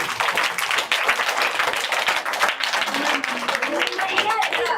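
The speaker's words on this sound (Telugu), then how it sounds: "క్లాప్స్ కొట్టండి" Schoolchildren clapping together at a school meal inspection, a brisk burst of scattered claps from a group, close and fairly loud, with voices overlapping at times.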